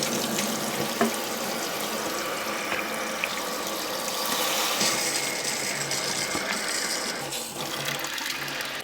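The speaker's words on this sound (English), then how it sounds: "I'm going to get my spray bottle and it's currently empty, so I'm going to pour water in there and only dishwashing liquid." Water pours steadily from a tap into an empty plastic spray bottle for a fridge-cleaning mix with dish soap, a continuous close hiss and splash with no talking.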